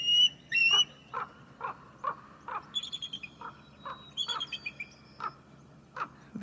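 A raven in the Alaskan wild calls while circling a bald eagle perched atop a tree. Its short, repeated croaking calls come in irregular bursts with brief gaps, fairly close, and higher chirps mix in.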